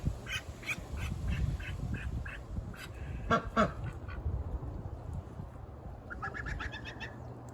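A duck with angel wing quacks repeatedly while its wing is being bandaged, bursts of nasal calls near the start and again near the end over steady rustling and handling noise, with a couple of louder squawks midway.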